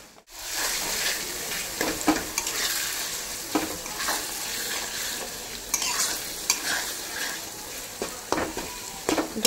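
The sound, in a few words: meat being stir-fried in a pan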